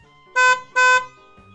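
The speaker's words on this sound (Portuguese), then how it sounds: "Buzina" A car horn honks twice in quick succession, loud and near, two short even blasts over faint background rumble.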